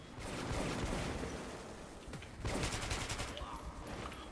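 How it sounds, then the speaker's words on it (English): Rapid bursts of video game gunfire crackle densely throughout, with a louder volley midway, loud and close with no speech over it. "What is this gun, dude? This gun is fire."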